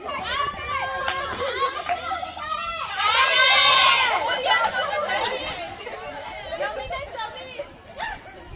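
Children play blind man's buff outdoors on a road, their excited shouts and chatter forming a lively, overlapping babble that swells into louder cries midway.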